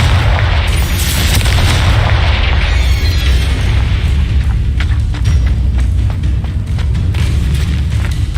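Confringo fire spell from Hogwarts Legacy: a loud, sustained rumbling blast with heavy low-end roar and crackling bursts that continue throughout, no voices present.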